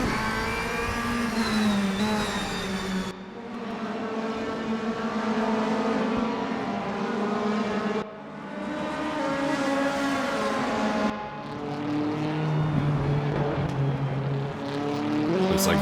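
DTM race cars lapping Hockenheimring in the RaceRoom sim, a loud sustained engine drone that rises and falls through gear changes and revs, with brief dips between shifts and no speech.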